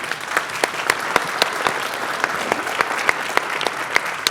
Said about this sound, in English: I'd like to ask everyone to please give him a round of applause.